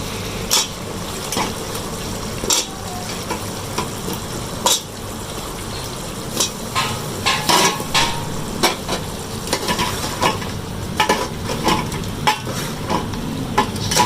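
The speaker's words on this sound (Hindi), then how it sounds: "थोड़ी देर हम आलू डाल के पकाएंगे" Potatoes sizzling and frying in a pan with minced beef, with repeated stirring and scraping clatters, close and steady over about fourteen seconds.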